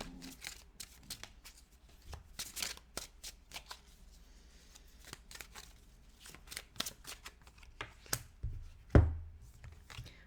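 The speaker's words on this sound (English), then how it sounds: "just going to get a couple more cards." Tarot cards being shuffled and drawn from a deck, a long run of soft, dense riffling flicks and slides close by, ending in a sharper thump as the cards are set down.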